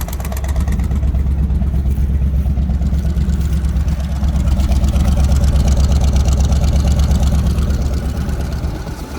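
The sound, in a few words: 1970 C20 truck engine running at first start in 20 years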